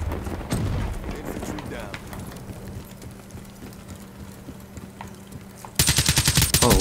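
Rapid gunfire from Call of Duty: Black Ops 3 multiplayer, a loud dense burst of shots arriving near the end after a stretch of quieter game ambience and a few scattered earlier shots, with talk mixed in.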